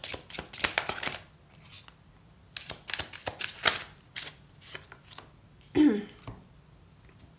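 Tarot cards being shuffled for a draw, giving quick papery riffling bursts in uneven clusters, close and fairly quiet, with a brief scrape near the end.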